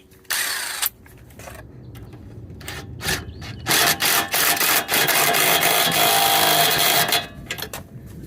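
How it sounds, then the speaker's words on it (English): A torque wrench works the rear shock bolt on a 2019 Honda Odyssey, giving close, bursty metallic ratcheting and grinding in uneven spurts with brief pauses between. "I'm gonna then come back with my torque wrench"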